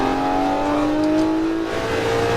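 A Lamborghini Murcielago LP640 engine howls at full throttle on Las Vegas Speedway, a loud, sustained, rising high-pitched roar heard close and steady.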